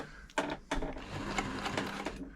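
A Silver/Pfaff 1139 sewing machine, set to zigzag instead of straight stitch, stitches fabric in loud close stop-start bursts of rapid mechanical whirring and clatter.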